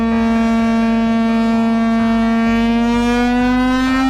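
Siren known as The Lion King, a loud, deep and steady harmonic drone that holds almost level and creeps slightly upward, with a low pulsing mechanical rumble beneath it and no voices.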